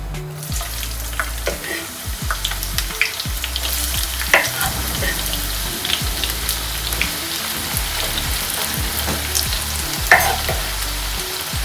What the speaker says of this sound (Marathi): सगळा कांदा एकदमच टाकून दिलेला आहे तेलामध्ये एकत्रच भाजून घेऊया